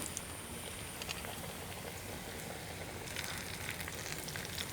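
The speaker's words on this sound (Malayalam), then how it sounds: "നന്നായിട്ട് ചൂടായ വെളിച്ചെണ്ണയ്ക്കിട്ട് പൊരിച്ചെടുക്കാം" Chicken pieces frying in well-heated coconut oil, a dense, steady sizzle and crackle that runs unbroken throughout with no voices.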